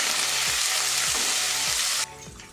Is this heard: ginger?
yes